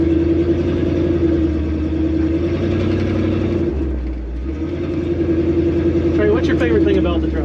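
A 1964 Ford F100 pickup, bagged and body-dropped, runs with a steady low engine rumble and idle that shifts pitch as it begins to move, loud and close throughout.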